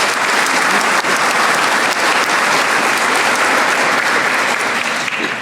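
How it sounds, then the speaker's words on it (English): An audience at a small business recognition awards program claps loudly and steadily for the whole stretch, a dense wash of applause from a large crowd with no pauses. "So if you could please join me in some applause"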